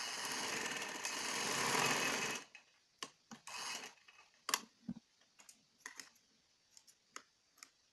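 A sewing machine stitches the shoulder seams of a peplum top with a steady whirring run for about two seconds. Scattered soft ticks and clicks of handling fabric and the machine follow in the quiet afterward.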